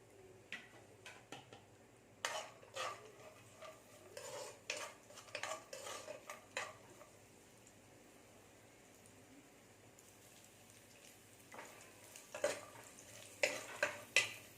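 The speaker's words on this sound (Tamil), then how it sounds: "மீடியம் ஃப்ளேமில் வச்சுட்டு இதை ஃப்ரை பண்ணி எடுத்துக்கோ" Cashews, almonds and raisins frying on medium flame, with a run of light tapping and scraping utensil strokes against the pan, quiet overall, pausing in the middle before resuming.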